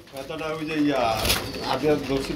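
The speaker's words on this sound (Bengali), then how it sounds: "এই যে বন্ধুরা দেখেন আরেক জোড়া কবুতর রয়েছে" A pair of fancy pigeons coo softly up close in a loft, their throaty calls overlapping with people talking nearby.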